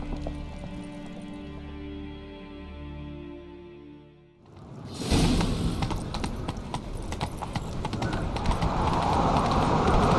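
Rapid hoofbeats of a galloping horse pound in after a quiet musical stretch, loud and continuous with a rumbling, busy backdrop, in the video game The Witcher 3.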